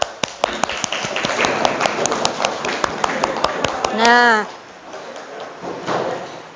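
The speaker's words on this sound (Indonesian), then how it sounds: "Aplaus untuk kita semua." A classroom group claps together in quick, uneven applause lasting about four seconds, then gives way to a short vocal sound and quieter room noise with talk.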